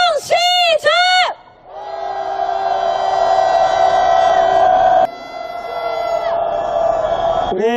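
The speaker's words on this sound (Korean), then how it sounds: "다시 한번 일본에게 분노의 함성 질러보겠습니다" Candlelight protesters marching toward the Japanese embassy raise a loud, sustained angry roar in unison. A single voice shouts briefly before the massed shout swells, holds and then drops partway before resuming.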